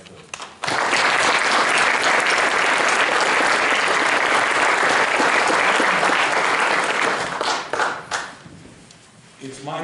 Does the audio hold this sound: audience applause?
yes